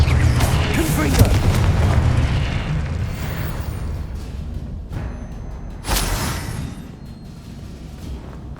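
Confringo explosive spell from Hogwarts Legacy: a heavy boom with a rumbling tail inside busy combat game audio, followed by a second sharp burst partway through. The blasts sound loud and close over a continuous low roar.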